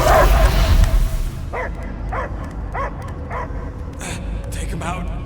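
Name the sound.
dog barking in Guardians of the Galaxy video game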